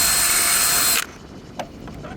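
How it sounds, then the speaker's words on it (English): A power drill bores a mounting hole in aluminium on a C&C 39 sailboat's bowsprit, a loud high whine for about a second that stops abruptly, followed by a few faint clicks and handling sounds. "And drill the mounting hole."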